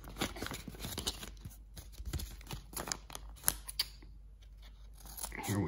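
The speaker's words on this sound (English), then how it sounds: "envelope in here. So I'm going to cut it open." Scissors snip and slice through a paper mailing envelope up close, a run of sharp crisp cuts and paper rustles with short pauses, then a louder crinkle of handling at the end.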